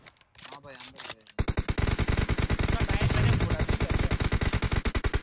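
Rapid automatic gunfire in the battle royale game PUBG Mobile, a dense, loud, steady burst of shots lasting several seconds after a brief moment of speech and quieter sounds at the start.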